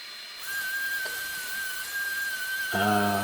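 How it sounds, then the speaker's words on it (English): High-pitched whine of a small rotary sanding tool working a resin piece, a steady sustained whistle-like tone held for a few seconds, close and clear, shifting to a lower buzzing at the end. "So now I'm just giving her a good sand"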